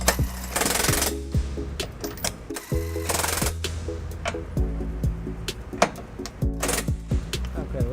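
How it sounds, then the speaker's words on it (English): A DeWalt electric impact driver with an 18mm socket and extension snugs trailer hitch bolts on a 2011 Toyota RAV4, giving loud, rapid rattling hammer bursts that start and stop several times, close up. "I'm going to take an electric DeWalt impact, and I'm going to use an 18mm socket with an extension here"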